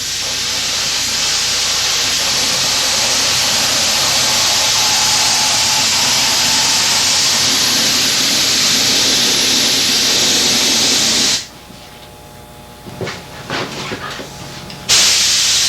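Paint spray gun laying a coat on a car panel during auto body repair, a loud steady hiss running continuously for about eleven seconds, then cutting off to near quiet with a few faint bumps and a short final burst.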